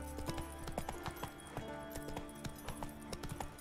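Horse hooves clopping steadily while riding in The Witcher 3, a brisk even trotting rhythm up close, alone without talk.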